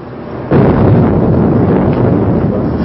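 During a missile attack on Tehran in the Iran-Iraq war, a heavy explosion roars in loud and close, then settles into a sustained, rumbling boom that fills the rest of the moment.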